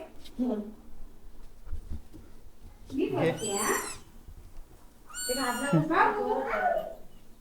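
A cat meows a couple of times, drawn-out and rising, with people talking softly nearby between the calls.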